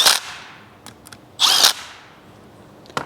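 Impact driver tightening M10 bolts with an 8mm hex bit, two short loud bursts of whirring and hammering with a quick rattle between them, close up against a quiet workshop background.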